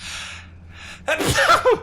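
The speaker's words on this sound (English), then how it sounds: "Sneeze." A single sharp sneeze bursts out close to the microphone after a short inhaled gasp, loud and alone.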